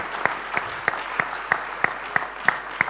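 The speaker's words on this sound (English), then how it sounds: "I just want all of you to give a big round of applause to Haben and Aryan." A conference audience at IIS 2016 claps steadily, with a rhythmic, evenly spaced beat of loud claps and a faint murmur of voices underneath.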